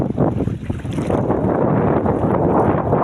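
Rough sea and strong wind at a fishing shore in bad weather, a steady loud roar of surf with wind buffeting the microphone throughout, no talk.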